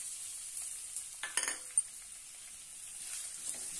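Finely chopped onion goes into hot oil with cumin seeds, giving a soft, steady sizzle with a couple of quick metallic clinks of a spoon against the pan, no talking.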